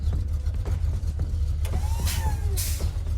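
A 1971 Pontiac Granville lowrider sits with its engine idling in a low, steady rumble nearby, with a few faint squeaks and whirs layered over it.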